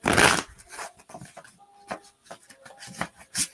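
A deck of cards is shuffled up close, opening with a loud riffle burst and then a series of irregular snaps, taps and soft slides as the cards are squared and handled.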